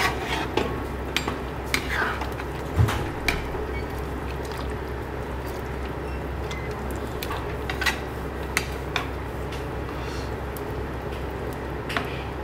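A pot of meat and potato curry is stirred, with a spoon clinking and scraping against the metal sides in scattered taps over a low, steady simmering hiss.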